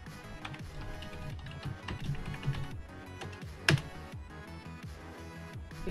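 Typing a command on a computer keyboard, a run of quick, light, close key clicks in irregular rhythm, with one sharper louder keystroke near the end, set against a soft steady background.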